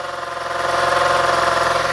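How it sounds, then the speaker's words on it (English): A Fiat Seicento engine idles with a suspected faulty alternator, producing a close, loud, continuous hum and whine over a fast, even mechanical pulse, with no voices. "I think it's the alternator, lads"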